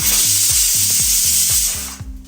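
A pressure cooker cooking rice lets out its first whistle: a loud, sustained steam hiss with a rhythmic low pulsing underneath, cutting off just before the end.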